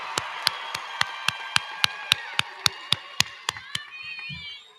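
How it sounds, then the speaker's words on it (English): Graduation ceremony audience claps in a slow, regular unison rhythm, about fourteen sharp evenly spaced claps, with some crowd murmur and a brief voice as the clapping stops. "Please give them a round of applause."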